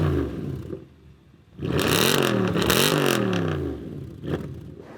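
A Mercedes C63 AMG with a 6.2-litre V8, likely on a non-standard exhaust, is revved hard: a quieter idle, then a loud, sustained rising and falling roar before settling back down, with no talking.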